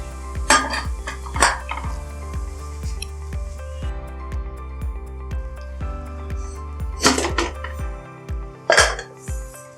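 A pot is covered with its lid while caramel pudding cooks in a home kitchen, with repeated metallic clinks and clatters of cookware over a steady background hum, close and moderately loud.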